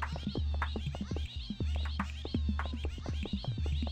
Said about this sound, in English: Wonder if there's any more of those cats.